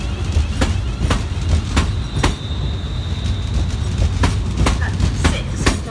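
Two coupled London Northwestern Railway class 350 electric units pull out of Crewe station, with rhythmic wheel clicks over rail joints, a low rolling rumble and faint squeal, fairly close and steady.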